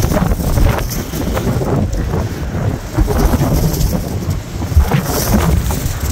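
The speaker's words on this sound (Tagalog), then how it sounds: "Lakas pa rin ang hangin mula pa kagabi." Strong wind in a parking area in Japan roars steadily against the microphone, a loud, continuous gusting rumble with no pauses.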